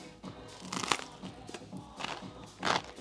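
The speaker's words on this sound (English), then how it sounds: "Of course, there was a serious crunch." Crunchy food bitten and chewed close to the mic, several faint crisp crunches spread unevenly over a few seconds, the last one louder, under quiet room noise.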